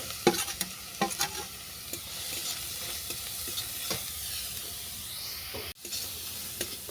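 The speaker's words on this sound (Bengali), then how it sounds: "ফুলকপিটা একটু ঘন ঘন নাড়তে হবে যেন বাদামি রং না ধরে।" Cauliflower fries in a wok with white oil, dry red chillies and bay leaves, giving a continuous sizzle under repeated scraping and knocking of a spatula as it is stirred often, with no talking.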